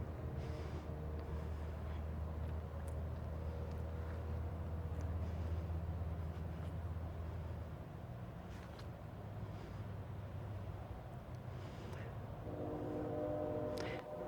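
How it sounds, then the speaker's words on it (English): A distant train rumbles in the background, a low continuous drone with faint horn-like tones rising near the end, no talking. "There's a train in the background."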